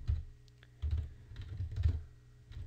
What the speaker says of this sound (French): donc je tape mon adresse